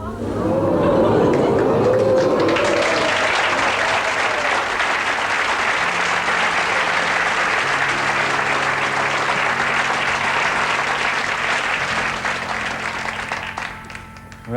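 Studio audience at a 1983 BBC1 variety show applauding loudly and steadily for about fourteen seconds, dense clapping with some crowd chatter and a few sustained tones underneath, fading slightly at the end.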